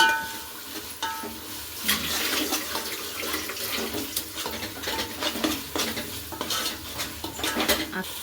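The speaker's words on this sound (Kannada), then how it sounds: "ಇದು ಹಸೆ ವಾಸನೆ ಹೋಗೋವರೆಗೂ ಈ ಥರ ಫ್ರೈ ಆಗ್ತಾನೆ ಇರಬೇಕು ಮಸಾಲೆದು" Masala frying in oil gives a continuous sizzle, with repeated scrapes and clinks of stirring in the pan coming through close and fairly loud.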